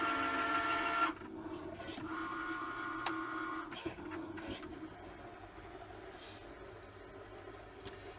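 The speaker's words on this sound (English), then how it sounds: "So while that's cutting, you're going to get your other mat" A Cricut cutting machine works through a mat, giving a soft mechanical whir and hum with a motor tone that shifts, plus occasional small clicks and taps, quiet and close.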